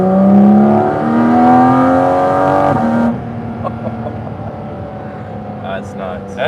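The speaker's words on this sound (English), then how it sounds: "soundtrack is unbelievable in this car" A Porsche 718 Cayman GT4 RS engine revs hard and loud from inside the car, its rising howl cutting off abruptly, leaving quieter road rumble while a person talks.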